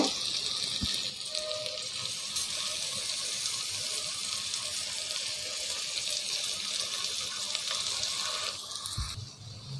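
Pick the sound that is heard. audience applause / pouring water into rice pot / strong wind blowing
pouring water into rice pot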